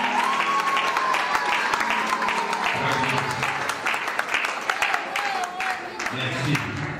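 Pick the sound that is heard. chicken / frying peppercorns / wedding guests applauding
wedding guests applauding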